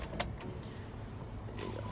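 Car keys jangling inside a BMW E46 330ci, a few quick metallic clinks near the start and again later, faint and close over a low cabin hum.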